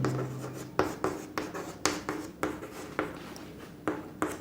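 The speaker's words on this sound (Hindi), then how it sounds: "तो हम यहां पर लिखेंगे" Chalk or marker writing on a board during a physics lesson, a steady series of close scratchy strokes with short pauses between them and no talking.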